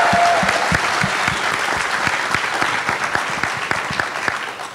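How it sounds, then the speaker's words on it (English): A seated audience applauds an astronaut, the third African-American woman to go into space, with steady dense clapping that fills the whole stretch and tapers slightly toward the end. "Let's give her a round of applause."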